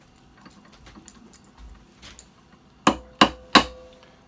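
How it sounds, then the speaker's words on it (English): A hammer taps a metal workpiece down onto a milling parallel in a machine shop vise, three sharp, loud ringing strikes in quick succession after a few faint clicks and handling noises. "Hammer that down, make sure the parallel doesn't move."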